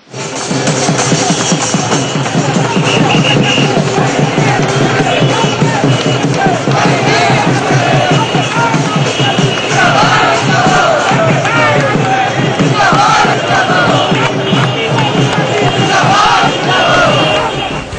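A huge crowd of supporters cheers and shouts at a Congress road show in Kashi for Ajay Rai on the last day of campaigning, a dense, loud, continuous roar of voices and chanting lasting throughout.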